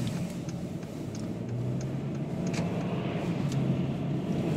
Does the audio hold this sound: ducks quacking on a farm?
no